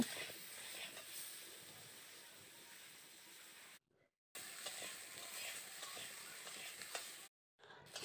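Potatoes fry with salt and turmeric in a pan, a soft continuous sizzle with faint stirring scrapes, broken by two short silent gaps.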